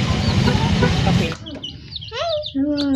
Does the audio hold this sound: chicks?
yes